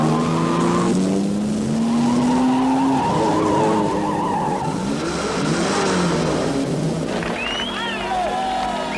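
A car skids and revs at the start of a race with a president driving Car 1, its engine tone climbing before sharp tire squeals, loud and close, with voices and crowd noise underneath.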